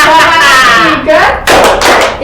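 A group claps out a chant rhythm in a classroom, sharp hand claps in short bursts mixed with children's voices calling along, close and loud.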